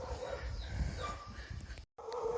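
Dogs on a road bark and yip faintly in the distance amid outdoor background noise, with brief whimpering cries and a sudden short cut near the end.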